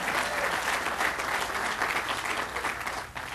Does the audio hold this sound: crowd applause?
yes